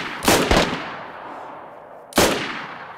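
Gunfire in the online shooter DayZ on PS5 during a conquest match, two sharp close shots in quick succession, a ringing tail, then a third loud shot after a pause.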